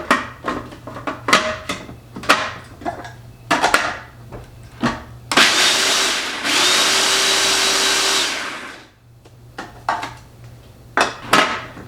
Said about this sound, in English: I'm going to go ahead and put it in my food processor and get those nice and chopped